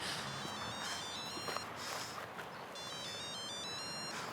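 A telephone rings with a repeating electronic ringtone pattern in two bursts against a noisy indoor background, with no talking over it.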